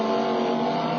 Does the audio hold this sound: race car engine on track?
yes